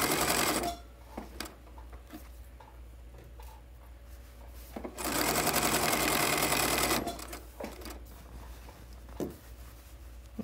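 A sewing machine stitching a pillowcase runs in two loud bursts of rapid mechanical chatter separated by quieter pauses with small clicks and fabric handling.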